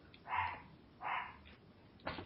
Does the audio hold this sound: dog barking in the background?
yes